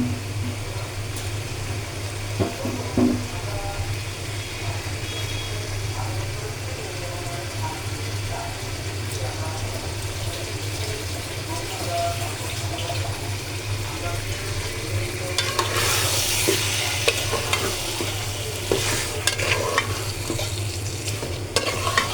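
Beef cooking with chui jhal in a pan, stirred slowly: a steady low sizzle runs throughout with scraping spoon strokes, and the frying grows louder and brighter near the end.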